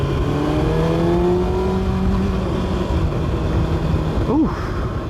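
A 2024 Kawasaki Ninja ZX-6R motorcycle accelerates, its engine note climbing steadily in pitch with a rising whine, then falling away sharply after a brief rev near the end, loud and close.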